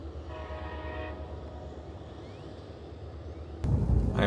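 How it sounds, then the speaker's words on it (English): A train rumbles through a quiet Texas coastal town, its horn sounding as a steady, distant tone over continuous low rail noise, ending with a louder thump. "sounds like a train is coming through too"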